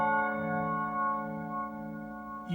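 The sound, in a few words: shifting filtered reverb synth sounds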